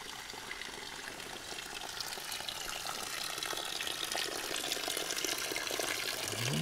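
Radon mineral spring water pouring steadily from a spring with strong pressure, a continuous close broadband gush and splash with no pauses.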